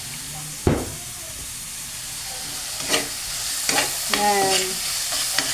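Anchovy omelette fries in cooking oil in a pan, a steady close sizzle with bursts of crackling and hissing, and a brief spoken word near the start.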